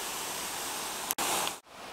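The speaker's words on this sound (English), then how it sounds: "next is the first crossing of Mono Creek" Mono Creek rushing past a trail crossing on the John Muir Trail, a steady loud broadband wash of flowing water heard up close, briefly interrupted by a couple of sharp dropouts.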